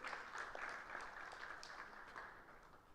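A lecture audience claps for a deputy vice chancellor being introduced, the dense even applause of many hands holding steady and soft in the room before thinning slightly near the end.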